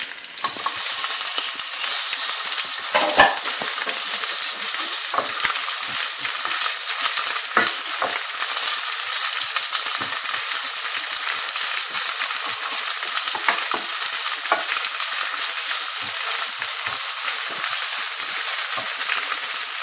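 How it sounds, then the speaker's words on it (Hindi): Onion crackles and sizzles steadily in hot oil as it is stirred with okra and potatoes, the frying continuous and close for the whole stretch, broken now and then by sharper clicks and scrapes of a spoon against the pan. "अब मैं ये तेल हो गया गर्म, मैंने क्योंकि पहले उसको चूल्हे को जलाया हुआ था। और ये इसमें मैं प्याज डालूंगी।"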